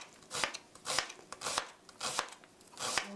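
Knife finely chopping an onion on a cutting board, about five distinct bursts of rapid crisp strokes in an even rhythm, close and clear with no talking.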